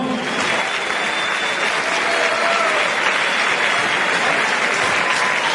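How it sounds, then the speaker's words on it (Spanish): Loud, dense crowd applause fills a boxing event venue, a steady unbroken roar of many hands clapping with no voices on top. "Un fuerte aplauso."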